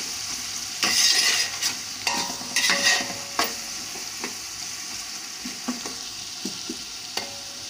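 Onions and green chillies fry in peanut oil for a homemade chicken curry, sizzling steadily while a utensil stirs and scrapes the pan in repeated bursts, close up with no voices.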